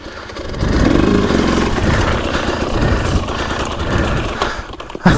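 Husqvarna two-stroke motorcycle engine running up close and struggling as if not warmed up, a rough uneven burble that rises, wavers and dips, with a sharp knock near the end.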